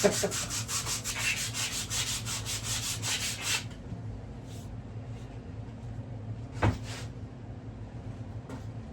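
A firearm being hand sanded with 60 grit sandpaper gives a steady, rhythmic rasp of rapid back-and-forth strokes for about three and a half seconds, then it stops, leaving quiet room tone and a single brief knock.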